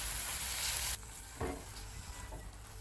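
Ginger garlic paste and green chillies sizzle steadily in hot oil for a soya meat curry, a loud close hiss that softens partway through, with brief stirring scrapes and no talking.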